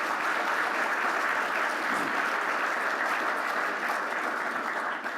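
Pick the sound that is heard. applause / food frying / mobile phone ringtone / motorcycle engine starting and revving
applause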